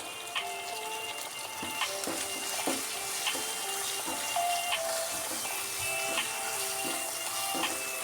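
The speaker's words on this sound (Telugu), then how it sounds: "పసుపు ఒక స్పూన్ వేసిన అల్లం వెల్లిగడ్డ పేస్టు పచ్చిధాన్యాల పొడి మంచిగా వేగిపోయింది" Ginger-garlic paste with turmeric and coriander powder frying in a pan for a bitter gourd tamarind curry, a soft continuous sizzle under repeated light clicks and scrapes of a spoon stirring, steady and close with no talking.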